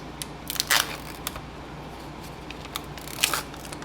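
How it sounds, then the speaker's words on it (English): A sealed package being peeled open from the corner, with sharp crinkly tearing bursts and small crackles against a quiet kitchen background. "Just peel it open from the corner."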